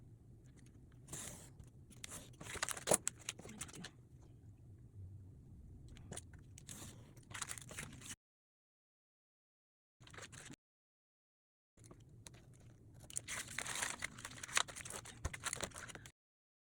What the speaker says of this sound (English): So we're gonna cut all 3 pages.